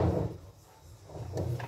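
A child drags a chair across the floor: a short scrape and knock at the start, a quieter pause, then another scrape and bump nearby.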